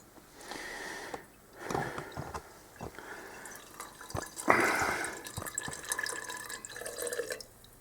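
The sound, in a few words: petrol draining from carburettor float bowl into container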